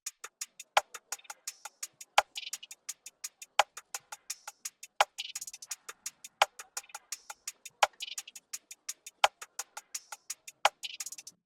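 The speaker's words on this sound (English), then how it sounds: "our simple percussion loop is going to sound like this." A simple, dry percussion loop repeats with crisp, evenly spaced ticking hits, brighter accented strikes and occasional hissy cymbal-like bursts, all fairly quiet and with no voices.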